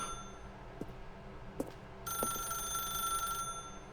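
A telephone in The Stanley Parable starts ringing after a few soft knocks, its steady electronic bell tone holding for over a second at moderate volume against a quiet room hum.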